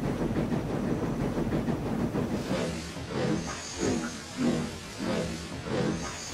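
A steam engine train puffs along the track in a railway tale, starting as a dense rolling hiss and settling into a regular chuffing beat of rhythmic exhaust bursts, with no talk.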